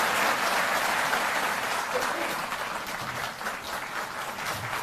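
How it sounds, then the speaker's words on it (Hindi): Sustained audience applause from a crowd at a formal gathering, a dense steady clatter of many hands that fades slightly toward the end, with faint voices underneath. "तालियां बजती रहें।"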